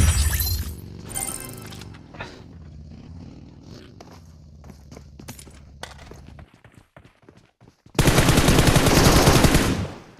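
Shotgun fire rings out in a BGMI battle royale match: a few sharp blasts near the start, scattered clicks and footsteps, then a loud, dense burst of noise toward the end.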